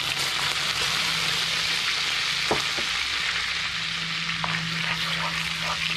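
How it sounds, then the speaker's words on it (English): Chili flakes sizzle in melted butter in a pan, a constant close crackle with a few soft spoon taps partway through and no voices. "I'm going to put that into my butter"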